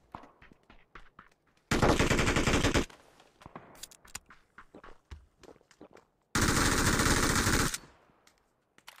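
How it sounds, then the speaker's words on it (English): A gun is test-fired in a military-drop video game: two long, loud bursts of rapid automatic fire, each lasting over a second, separated by quieter scattered clicks and footstep-like taps, with no talk. "Gonna test shoot to show our friends how the fire rate works."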